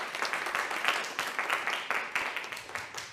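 Studio audience applause on an Azerbaijani televised talent show, a steady stretch of many hands clapping with rolling bursts, fairly close and continuous throughout.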